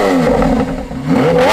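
Lamborghini Aventador V12 engine revving up, a loud, close, rising roar with strong low harmonics climbing in pitch across a brief burst, heard alone.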